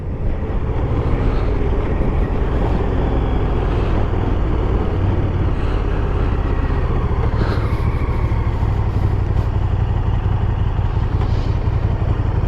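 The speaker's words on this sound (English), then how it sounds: "Using the front brake, the rear brake." A KTM Super Duke 1290 GT motorcycle on a ride gives a loud, steady engine drone blended with heavy wind rush, continuous and close throughout with no talking.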